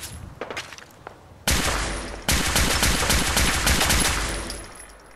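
Rapid automatic gunfire from the video game Fallout 4 on PC: two loud sustained bursts, the first starting partway in and a second harder one soon after, rattling on continuously and close, with quieter scattered shots before them.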